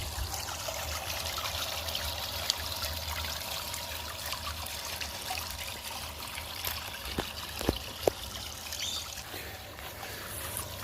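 A bucket washer churns water while cleaning toy gun parts, a steady close trickling and sloshing stream with a few faint clicks, no talk.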